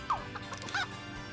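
A cartoon chicken in the Scribblenauts Unlimited video game gives two short, clear clucks, one right after the other, over a quiet game background.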